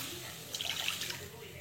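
Water is poured into rava dosa batter made from semolina, giving a brief splashing trickle that lasts about half a second, moderately close over a quiet kitchen background.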